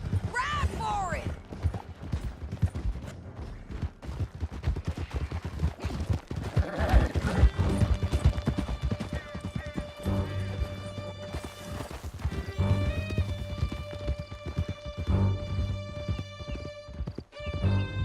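Galloping horses in Red Dead Redemption 2 pound along in a fast clip-clop with whinnies, while voices shout over the hoofbeats and scattered shots, and music swells later.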